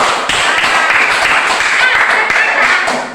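A classroom full of people clapping together, loud and sustained for a few seconds, fading slightly at the end.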